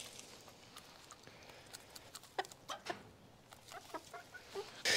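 Chickens are being hand-fed at a coop. Scattered soft clucks and sharp pecking taps come in irregular bursts, fairly close but quiet, with no voices.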